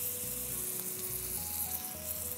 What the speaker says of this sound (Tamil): இப்போ அதை மீனை அதில் போட்டுருங்க பார்ப்போம், வறுக்கிறதுக்கு.